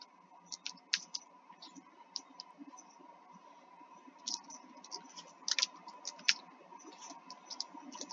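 Quick fingers tap on a computer keyboard, making light, irregular clicks in short bursts over a quiet room hum, fairly faint and close, with no one speaking.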